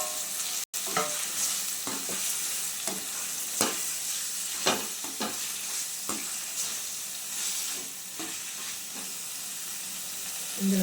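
A quarter kilo of chicken fries in a pan for an Andhra-style curry, giving a constant sizzle punctuated by repeated sharp scrapes and knocks of a spoon stirring, close and fairly loud.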